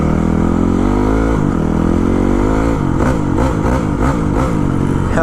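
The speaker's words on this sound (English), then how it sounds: "There goes a wheelie." A motorcycle engine revs hard and loud close by during a wheelie, with a sustained roar that rises and falls through several throttle surges.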